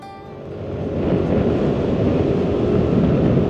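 Strong wind roars steadily at a high mountain spot near a relay station, a dense rushing buffet that swells after the first second and holds.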